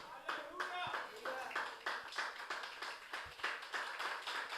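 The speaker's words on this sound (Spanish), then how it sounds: "Hermano, si va a aplaudir al Señor" A church congregation claps along in a rhythmic, steady beat at moderate distance, with singing or voices carrying over the clapping throughout.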